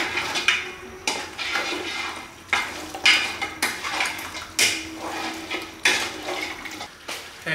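A coconut beef stew is stirred in a pot on the stove, a spoon scraping and clinking against the sides in repeated rhythmic strokes, close and fairly quiet, with no talking.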